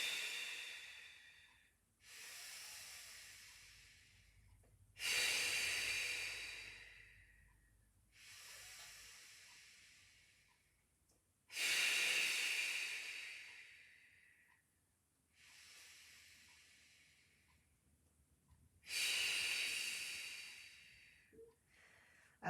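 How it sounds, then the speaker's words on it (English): Slow, deliberate Pilates breathing, with airy inhales through the nose and stronger exhales through the mouth, repeats in a steady cycle of about seven breaths, each swelling and fading, close to the microphone with no talk. "So we're breathing in through the nose,"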